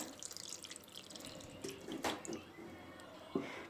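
Water trickles and drips into a pot of stuffed dolma on a quiet kitchen stove, a faint splashing pour with a few soft clinks and drops near the end.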